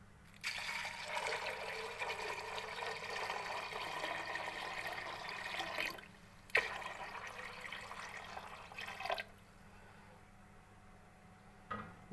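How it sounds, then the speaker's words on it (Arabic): Water poured from a container into a bowl of dough ingredients in a home kitchen, a steady broadband splashing stream running for several seconds, briefly pausing, then resuming before stopping, close and fairly loud. "اضيف عليها بقى الميه"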